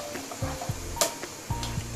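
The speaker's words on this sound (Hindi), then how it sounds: "घी हमारा गर्म हो चुका है, अब हम इसके अंदर जीरा डालेंगे, इसे हल्का सा ब्राउन होने देंगे।" Cumin seeds crackle and sizzle in hot ghee in a pan, with short sputtering bursts and a few light stirring clinks close by.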